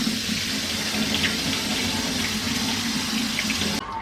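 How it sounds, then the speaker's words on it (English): Cold tap water runs steadily into a kitchen sink over cooked pasta being rinsed, a close, continuous rushing splash that stops abruptly near the end. "Rinse it in cold water."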